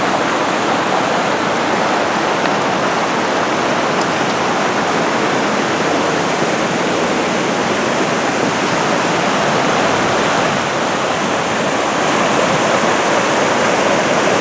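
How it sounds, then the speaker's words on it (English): Fryingpan Creek at Mount Rainier National Park rushes loudly and without pause, its steady roar of churning mountain water close by and filling the whole scene. "We've reached the bridge over Fryingpan Creek."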